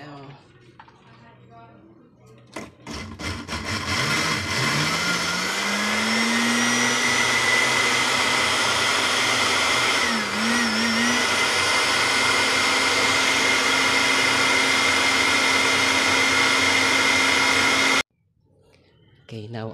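Blender whirring as it grinds charcoal for a homemade sea-water and aluminum battery, a loud steady motor drone with a pitch that rises and dips as the load shifts, running about fifteen seconds before cutting off abruptly.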